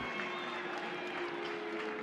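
Spectators at a college softball stadium applaud a throw during a Houston vs Oklahoma game, a steady, fairly soft wash of clapping heard from a distance.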